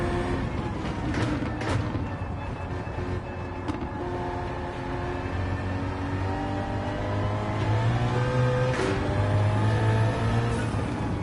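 A modern engine swapped into a 1973 BMW CSL in Gran Turismo 7 revs and roars steadily, its pitch rising and falling as it accelerates, loud and close with no other sounds.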